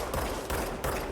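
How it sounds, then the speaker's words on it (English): Hip-fired gunshots in the video game Control: three loud, close shots land roughly evenly spaced, each a sharp broadband crack over a dense, noisy game background. "You can hip fire. You just walk and shoot."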